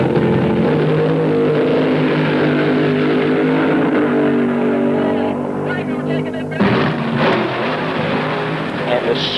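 Drag racing cars run at Beeline Dragway during the 1974 AHRA Winternationals, a loud continuous engine roar with layered droning tones that cuts off near the end, leaving a burst of crowd and track noise.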